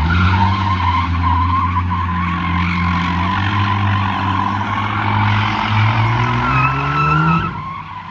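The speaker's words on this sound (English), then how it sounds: "This car sounds like shit." Car engine revving hard and steadily with tires skidding and squealing, loud and close for several seconds before the sound drops off at the end.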